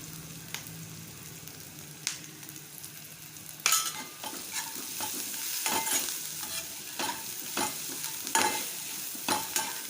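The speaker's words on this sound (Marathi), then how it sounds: "कांदा भाजत आला आता हळद घालूया" Onion frying in a pan for a leftover bhakri chivda as turmeric goes in, a steady close sizzle broken by repeated scraping stirs and metallic clinks of a spatula against the pan.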